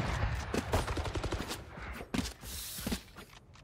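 Rapid gunfire in the video game Valorant, a burst of sharp repeated shots in quick succession followed by a couple more bursts, close and loud, with mechanical clatter between.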